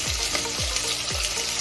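Chicken stew ingredients with salt and garlic paste sizzle loudly in a pan for a Bengali-style stew, with three sweeping stirring scrapes at a regular pace over a continuous close hiss.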